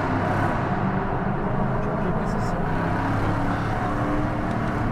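Dodge Charger SRT engine in a tunnel, a steady loud low rumble that holds throughout without breaks, with the enclosed space adding a dense, booming quality and no clear talk.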